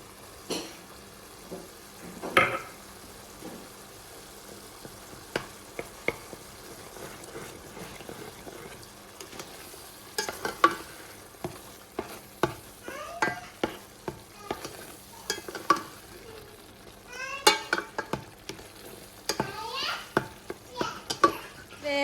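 Sucuk sausage sizzles steadily in a pan, with clattering utensils and snatches of voices, including a child's, in the background.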